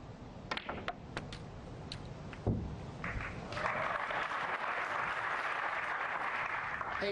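A knowledgeable snooker crowd at the Saudi Arabia Masters breaks into warm applause after a shot, a sustained burst of clapping that follows a few sharp knocks and thumps.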